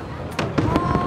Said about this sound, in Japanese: でっかい花火目の前で見れるとは思わんかった